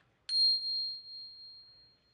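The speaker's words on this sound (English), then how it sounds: "Go ahead and give that a little ring for us so we know what that sounds like." A small handbell rings once with a bright, clear strike, then its single high tone hangs and slowly fades in an otherwise quiet room.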